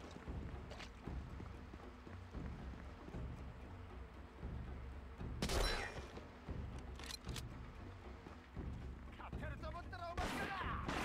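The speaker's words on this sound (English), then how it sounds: "I hear gunshots." Sharp bursts of gunfire crack out amid action in the PS2 game Medal of Honor: Rising Sun, a cluster near the middle and more toward the end, over a steady low rumble.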